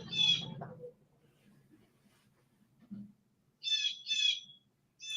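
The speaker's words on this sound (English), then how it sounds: "The bird's talking shit." An outdoor bird gives loud, harsh squawking calls, one burst at the start and a close pair of calls later, with a low murmur of people in the background between them.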